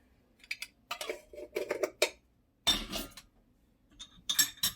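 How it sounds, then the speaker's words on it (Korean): A whisk beats egg batter for Korean oyster pancakes in a bowl, making brisk, irregular bursts of metallic clinking and clattering with short quiet gaps between strokes. "거품기로 그 저어줍니다."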